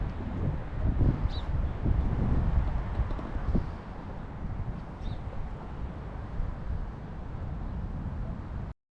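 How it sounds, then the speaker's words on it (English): Wind gusting after a sandstorm in southern Spain, a steady low rumbling roar with buffeting against the microphone, stronger for the first few seconds then settling into a constant blow, no one speaking. "I think the wind's just starting to get up again."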